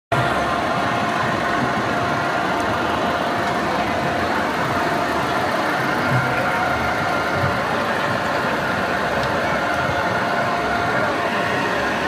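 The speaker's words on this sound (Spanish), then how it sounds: "Y por aquí va pasando junto a nosotros este hermoso carro" A parade float vehicle's engine hums steadily as it passes close by during a carnival inaugural parade in Jalostotitlán, a continuous loud mid-pitched drone mixed with crowd and street noise.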